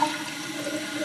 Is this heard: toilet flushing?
yes